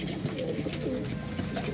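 Pigeons kept for sale coo in soft low repeated calls against a dense, murmuring background, as if several birds are gathered together nearby.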